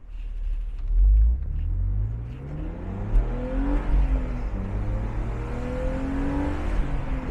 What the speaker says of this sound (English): so we're gonna do a little acceleration here.